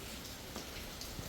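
Steady rain falling outdoors, a soft continuous patter with a few faint individual drops standing out, fairly quiet and with no voices.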